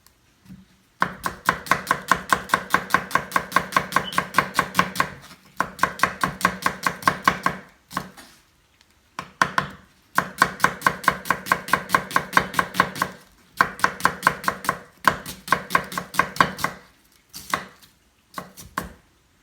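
Rapid, steady knife chops on a cutting board while vegetables are trimmed and sliced for an old-fashioned Kerala fish molly, coming in several long bursts of crisp, evenly spaced strikes separated by short pauses, close and clear with no talking.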